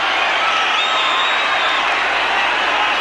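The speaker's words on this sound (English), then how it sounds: "The Limerick fans cheer" Limerick hurling supporters roar from a far stand during a 1987 Munster championship semi-final against Cork, a steady wash of crowd noise with no distinct claps or voices standing out.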